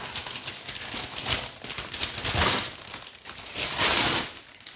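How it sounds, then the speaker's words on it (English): Unbleached parchment paper crinkles and rustles in close bursts as it is handled while sliced onions are laid out for homemade garlic powder, with louder crumpling swells near the middle and end. "everything's going to be placed on its own sizable parchment paper"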